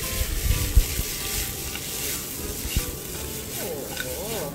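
Crispy pork with chili and spring onion is stir-fried in a pan, giving a steady, moderate sizzle with a few sharp clatters of stirring.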